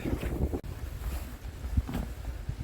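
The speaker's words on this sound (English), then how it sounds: "Yeah, a bit windy now." Gusty wind buffets the microphone outdoors near Derry Lodge, a rough low rumble rising and falling in uneven bursts with no talking.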